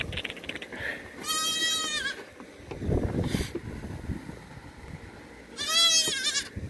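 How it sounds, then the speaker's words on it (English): Goats bleat outdoors among farm livestock: two loud, wavering cries a few seconds apart, with wind buffeting the microphone and rustling, shuffling noise in between. "We got some crazy goats here."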